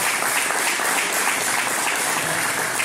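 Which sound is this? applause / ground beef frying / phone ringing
applause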